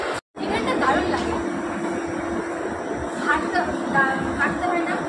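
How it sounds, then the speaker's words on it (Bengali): A metro train runs at the Chennai airport station, giving a continuous low rumble and hum with murmuring crowd chatter layered over it. "আপাতত আমরা মেট্রোতে চললাম"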